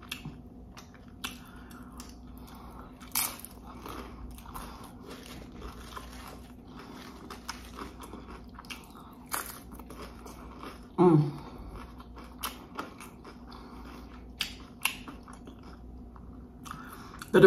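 Crunchy nacho-flavoured Doritos tortilla chips being chewed close to the mic, with quiet, scattered bites and one louder crunch burst near the middle, and no talking.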